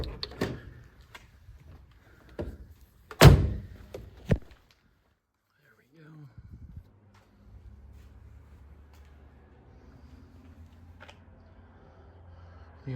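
A 1981 Mercedes W123 280E: door handle clunks and a sharp latch thump as the driver's door opens, a couple more knocks, then a quiet pause and a soft hood-release pop followed by low rustling movement nearby.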